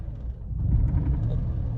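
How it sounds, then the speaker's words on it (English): A car engine idles with a low, steady rumble nearby, the tone swelling slightly as it runs. "When I press it, listen to the engine."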